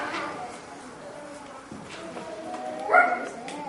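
During a Purim play on stage, a performer's voice imitates a dog with a few soft yips and whimpers, ending in one louder bark-like yelp near the end, amid faint stage talk.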